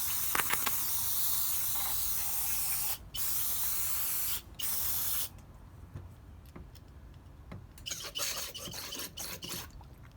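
Cleaner sprays in loud hissing bursts through motorcycle carburetor jets, broken by short pauses, then quieter hisses and small clicks and scrapes near the end.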